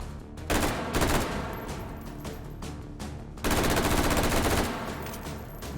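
Automatic weapon fire in Hot Dogs, Horseshoes & Hand Grenades, two rapid sustained bursts of close shots separated by a short pause, loud and dense.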